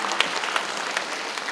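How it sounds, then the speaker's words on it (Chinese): Applause from an audience at a children's art exhibition award ceremony in Hualien, steady dense clapping sustained for a moment with a few sharper claps standing out. "给他掌声一下好不好？"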